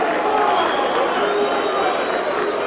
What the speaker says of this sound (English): the crowd continues to boo